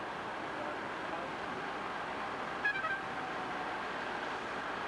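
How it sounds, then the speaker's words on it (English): A car horn gives a short double toot, faint and distant, during a 1996 Tour de France stage. It sits over a steady hum of road and race-convoy noise. "And you heard that horn then."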